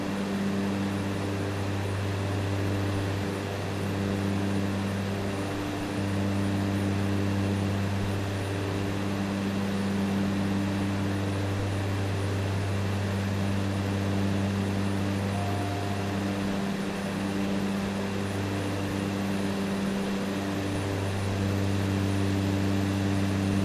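A steady, droning aircraft engine climbs in Microsoft Flight Simulator 2024, a constant low, harmonic hum that holds at even loudness throughout, with no talking.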